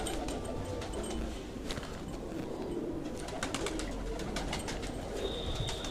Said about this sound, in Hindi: ये हमारे इंडियन रामपुरी चांद खानी कबूतर है